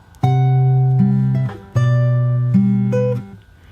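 Fingerstyle guitar plays one bar of a song from Aladdin, with sustained bass notes under plucked melody notes in two long phrases, close and clear with no talking.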